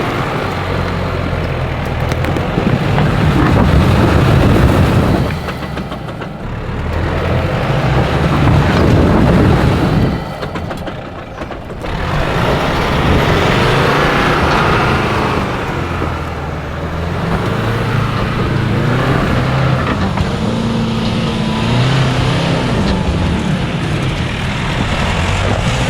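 A 4WD vehicle on an Australian overland trip near Coffs Harbour grinds up a big, steep off-road step, its engine loud and straining in long surges with brief easing between pushes, close and alone with no talk.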